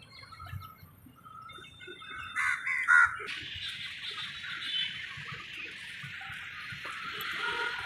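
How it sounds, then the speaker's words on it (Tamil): Crows perched in numbers on stones and trees at an outdoor monument site, with a few caws and bird calls rising over a steady background hum of the open-air setting, moderately distant. "இந்த காக்கா எவ்வளோ காக்கா சுற்றி உட்காந்துருக்கு பாருங்கள்"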